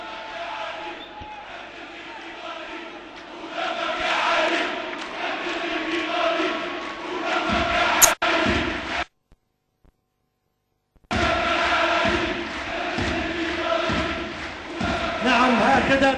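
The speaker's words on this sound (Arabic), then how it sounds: "نعم، هكذا تقول الجماهير الأهلوية، دمك يا علي عند الليبي غالي" Al-Ahly supporters at a tribute event for martyr Ali Hassan al-Jaber in Benghazi raise a loud, dense crowd chant that roars steadily, drops to silence for about two seconds, then surges back at full strength.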